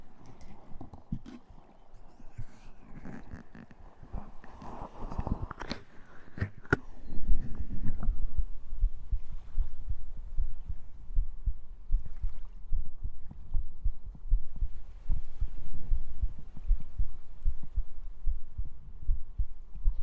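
Heartbeat captured close up on a 3Dio binaural microphone, a steady low throbbing pulse that dominates after a brief burst of rustling and handling noise early on.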